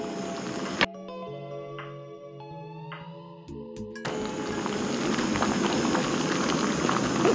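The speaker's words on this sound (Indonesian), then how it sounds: "Dan ya sudah mendidih sempurna ya." Water comes to a rolling boil in a Jetboil camping gas stove, a busy bubbling hiss that starts after a quieter stretch with a few clicks and tones, then continues loud and close to the end.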